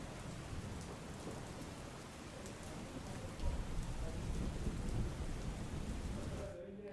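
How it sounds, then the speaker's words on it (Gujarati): Heavy rain pours down over Ahmedabad in a thick, continuous roar, while low thunder rumbles and swells in the middle. "અમદાવાદમાં પણ જેવી રીતે જોઈ શકાય છે કે સવારથી જ ભારે વરસાદ વરસી રહ્યું છે"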